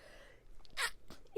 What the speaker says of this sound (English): That sounded like the fakest sneeze ever.